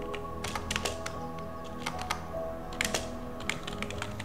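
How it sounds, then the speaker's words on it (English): A command typed on a computer keyboard, irregular clusters of light clicking keystrokes with short pauses, close and fairly quiet, with no speech. "now type the command bash"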